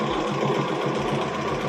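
A sewing machine stitching a quilt with a long stitch length, running at a quick, steady mechanical whir with a rapid rhythmic needle chatter, close and continuous, no speech.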